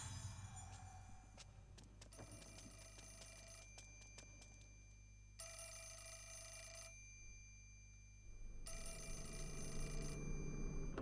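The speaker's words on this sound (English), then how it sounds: "that means I have to go through the phone call again" Telephone ringing in the video game Fatal Frame 4 (Mask of the Lunar Eclipse, Wii): three bursts of a bright electronic bell ring alone over a steady low hum, each burst lasting about one to two seconds with short gaps between.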